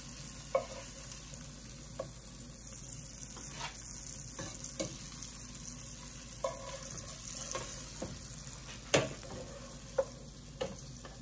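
Oxtails brown in a pan with a quiet, steady frying sizzle, punctuated by a dozen sharp clicks and scrapes of a utensil at irregular intervals, without speech.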